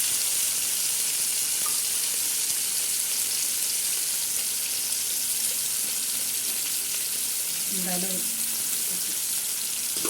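Onions and tomatoes with salt sauté in a pan, a continuous close sizzle and crackle throughout with occasional stirring scrapes; someone speaks briefly over it.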